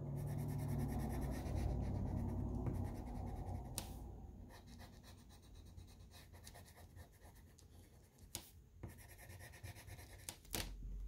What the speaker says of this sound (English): I'm just going to make sure mine is colored all the way in.